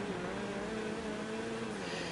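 A muscle car's engine in GTA 5 Online growls at a steady, loud drone, holding a sustained rev with no pauses and no talking.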